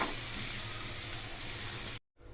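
Cumin and shahjeera sizzle in hot oil for jeera rice, a loud, steady hiss that stops abruptly, followed by faint quiet background.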